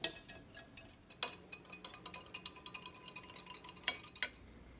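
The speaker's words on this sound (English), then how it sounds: "I'm going to whisk continuously until the gelatin has dissolved." A whisk clicking steadily against a pot while gelatin is stirred continuously over low heat, a rapid faint ticking rhythm with no speech.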